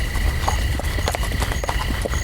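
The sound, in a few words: horse walking, hooves clip-clopping, audio drama effect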